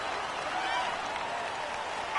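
Stadium crowd noise from a football video game: a steady, dense roar of cheering and applause, loud and constant throughout.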